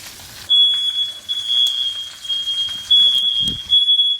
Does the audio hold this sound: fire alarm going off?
yes